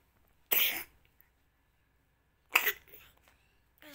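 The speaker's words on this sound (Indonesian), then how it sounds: "Bentar-bentar batuk itu muntah, batuk terus muntah dia." A child coughs in two separate harsh bursts, each about half a second, with a quiet gap between them; the cough is chesty and phlegmy, from a sick toddler who has been coughing and vomiting.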